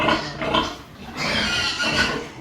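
Several sows, mostly pregnant, grunt and snort close by on a pig farm in a steady, overlapping chorus, with no talking.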